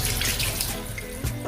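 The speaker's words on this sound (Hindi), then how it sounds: "अब इस पर थोड़ा सा ठंडा पानी आप ऐड कर दीजिएगा।" Cold water running from a kitchen tap onto boiled lasagna sheets, a loud continuous close rush of flowing water with a small splash near the end.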